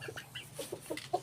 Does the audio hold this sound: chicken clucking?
yes